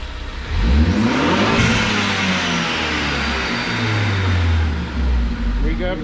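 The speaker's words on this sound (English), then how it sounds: "We got boost noises." Turbocharged Chevy engine in an ST revving up hard and falling back, loud and close, with whooshing boost and whir sounds rising and dropping between revs while someone talks over it.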